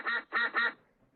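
Cartoon duck quacks from the Teach Your Monster to Read phonics game, three bright evenly spaced quacks in quick succession, close and clear, followed by faint quiet residue.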